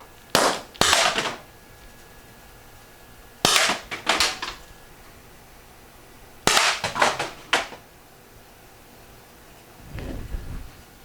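Three sharp, loud shots from an Umarex T4E HDP .50 caliber pepper round air pistol, each a crisp crack followed by brief clatter of the round hitting a target, spaced a few seconds apart, with a softer thump near the end.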